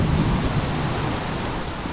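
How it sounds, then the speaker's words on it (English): A dense, continuous wash of rain with a low thunder rumble, heard as an indoor background during a rainstorm, fairly loud and steady with no talking. "I apologize for any rainy thunder noises there may be in the background."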